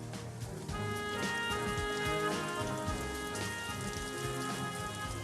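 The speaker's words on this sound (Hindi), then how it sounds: "बारिश भी शुरू हो गई है।" Rain falls steadily onto a surface, a dense patter of close raindrops that rises slightly after the first second and continues evenly.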